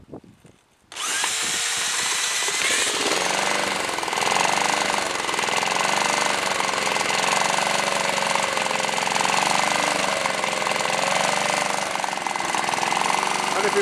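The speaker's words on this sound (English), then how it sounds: "It just fits in there nice enough to grip and spin the engine over fast enough and for long enough to" A wire cup wheel on a power drill grips a lawn mower engine that has no recoil starter and spins it over. A loud, steady whirring rattle starts after about a second and holds unbroken to the end.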